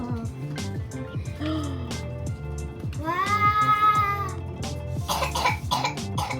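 A few short coughs break through a busy mix of voices and cat-like meowing sounds, with a clatter of noise near the end, at the snowy Zao area in Yamagata, Japan.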